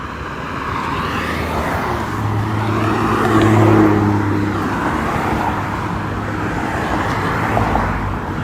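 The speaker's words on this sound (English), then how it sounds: "Sorry about the road noise," Cars zip past on a city street near a pedestrian crossing, a steady close roar of tyres and engines that swells as one vehicle passes nearby, then fades back into continuous traffic hum.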